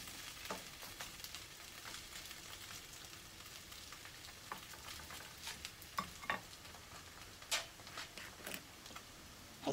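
Lotus root pancake batter with cumin frying in a pan, a steady soft sizzle with occasional brief ticks and pops, close and alone without talk.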